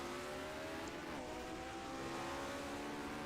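A 1970 Formula 1 race car engine drones steadily in a racing game, a continuous high whine with a shifting pitch that stays moderately loud and unbroken, with no talking.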